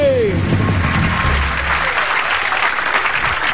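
Audience at a contest applauding a candidate: loud, dense clapping that swells after a brief voice at the start and carries on steadily to the end.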